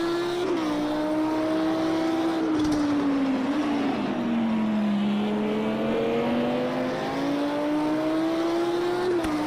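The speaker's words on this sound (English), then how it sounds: "Get their car accelerated out of the chicane." A GT3 race car accelerating out of a chicane on a racing circuit, its engine note loud and close, rising through a gear then settling, with a steady droning roar throughout.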